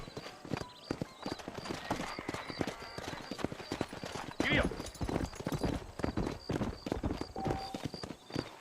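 Horse hooves clip-clop in a steady galloping rhythm in the video game Red Dead Redemption, close and continuous throughout, with a brief whinny-like sound midway.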